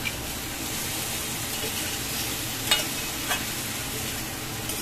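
Prawn curry sautéing in a pan, a steady broad sizzle with a couple of soft scraping stir strokes, close and even, no speech.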